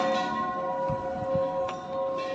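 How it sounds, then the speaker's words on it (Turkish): A large temple bell rung at a Bangkok temple sounds a sustained, steady metallic hum with lingering overtones, joined by a few soft knocks and faint background activity. "Büyük çan da var."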